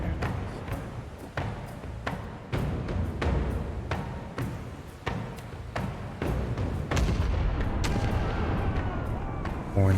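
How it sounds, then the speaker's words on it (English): Port cannons on a ship fire in the video game Pillars of Eternity II: Deadfire, producing a rapid series of sharp, heavy booms that repeat about a dozen times over steady background game noise. "Fire port cannons."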